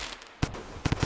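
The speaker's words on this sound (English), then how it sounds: "Is red like immune to the firecracker?" Firecracker explosions in the video game Rain World: one sharp burst near the middle, then a quick cluster of three loud pops toward the end, with no talk.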